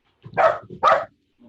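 A dog barks twice in the background, two loud close woofs about half a second apart, followed by a faint low grumble.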